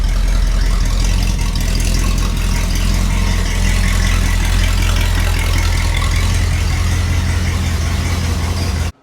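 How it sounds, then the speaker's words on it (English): A loud, rough 1961 Cadillac DeVille engine idles steadily with a deep, rattling exhaust roar from a busted-off exhaust, continuous throughout before cutting off abruptly at the end. "this thing is super loud right now because the exhaust is pretty much busted off right here"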